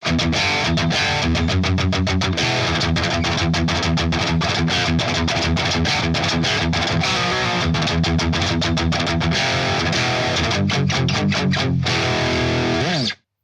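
A cheap electric guitar runs through a metal plugin preset, hammering out tight, heavily distorted palm-muted riffs with choppy stops and chugs. It plays loud and continuous for about thirteen seconds before cutting off, with no voices.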